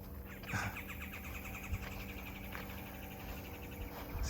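Birds chirp around a Florida fruit farm among guava and other tropical fruit trees, with repeated thin tweets at a moderate distance over a faint steady insect hum.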